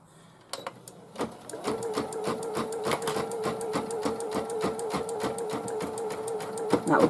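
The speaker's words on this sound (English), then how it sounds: "I just start stitching the face placement line" An embroidery sewing machine stitches a face placement line on a cowgirl hooded towel. It starts with a few clicks, then settles into a steady, rapid mechanical chatter with a constant hum, loud and close.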